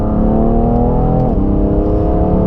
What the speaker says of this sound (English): even at low speeds has an awesome purr to the exhaust